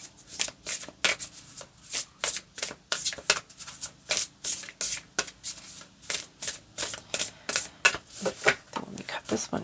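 A deck of cards shuffled over and over, close and crisp, with quick rhythmic riffling bursts repeating steadily throughout.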